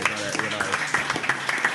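Live podcast audience applauding in a venue, a busy patter of clapping running under a voice as he keeps talking.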